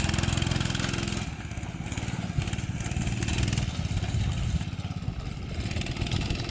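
A small mini go-kart engine drones steadily and fairly loud as the kart circles a sandy track, a buzzing idle-like hum with slight rises and dips throughout.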